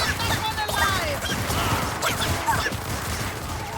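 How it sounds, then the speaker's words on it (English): Gunfire exchanged inside a villain's lair in the video game Evil Genius 2: dense, continuous crackling shots and impacts layered with clashing game effects and music, loud and unbroken throughout. "But our people are able to get in and start exchanging gunfire."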